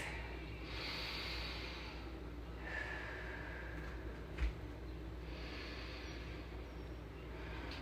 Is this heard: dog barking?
no